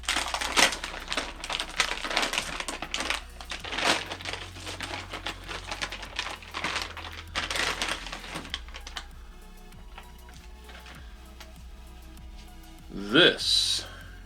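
An MSI GeForce RTX 4060 graphics card is unwrapped, its packaging making crinkling and rustling sounds in close, busy bursts. These fade to quieter handling, followed by one last sharp crackle.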